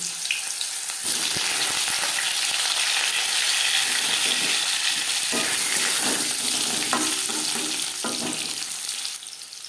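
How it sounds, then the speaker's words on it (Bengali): Panch phoron spices fry in hot refined oil, a steady, loud, close sizzle running throughout with scattered crackles and pops, for a cabbage curry. "চামচ রিফাইন্ড অয়েল গরম করে নিয়েছি দিয়ে দিলাম পাঁচফোড়ন"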